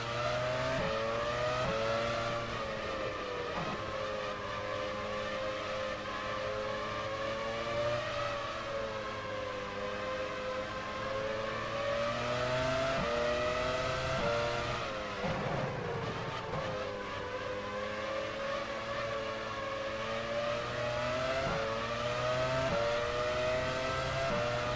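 Formula One race cars in the game F1 Challenge 99-02, at the 1999 Malaysian Grand Prix, whine at high revs throughout, holding steady pitch with shifts and brief dips around gear changes, loud and continuous with no talking.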